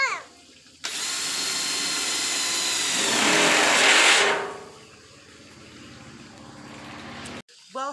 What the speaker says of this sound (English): you've seen the big tub that my husband was drilling holes in